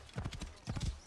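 A horse's hooves clip-clop in two quick bursts of several steps on the ground in the Assassin's Creed Origins video game, close and clear, with no whinny standing out.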